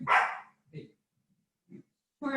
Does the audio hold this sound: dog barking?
yes